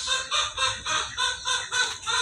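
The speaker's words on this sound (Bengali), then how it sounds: "এই যে মুরগি দেখেন, হাঁস মুরগি দেখেন" Chickens cluck close by in a quick, rhythmic series of about seven bursts, each loud and throaty, with no other sounds.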